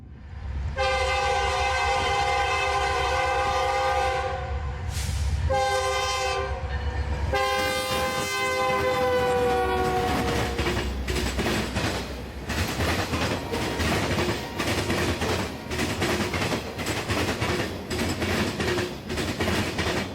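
A CSX freight turn led by CP run-through locomotives speeds across a diamond crossing in Plant City, sounding long, loud horn blasts before the wheels' rumbling, rhythmic clatter takes over and continues.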